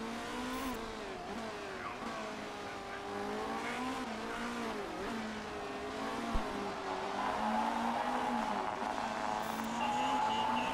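Race car engine bouncing off the rev limiter in the racing management game Motorsport Manager, a buzzing high-pitched whine that wavers and stutters repeatedly, steady and fairly loud, with a brief thump midway and no talking.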